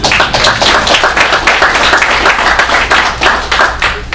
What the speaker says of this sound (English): we should probably give a round of applause to these IT guys